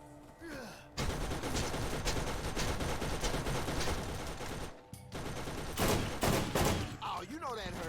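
Rapid, sustained turret gunfire in the video game Borderlands 1, with dense, loud bursts and a short gap midway, mixed with other game sound effects.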